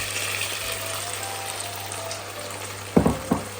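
Prawns frying in spice paste with cut chillies for a Rangpur-style prawn curry, a steady close sizzle with a low hum underneath and two sharp louder bursts near the end as the prawns go in.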